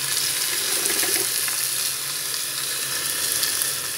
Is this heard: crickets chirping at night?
no